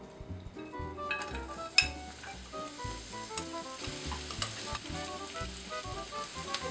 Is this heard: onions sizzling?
yes